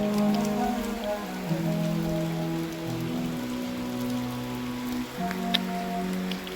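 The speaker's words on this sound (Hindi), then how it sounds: "क्योंकि बारिश अभी तेज़ हो गई है" Heavy rain pours steadily on a village surface in a continuous, dense wash of sound, with a low droning tone running beneath it and no voices.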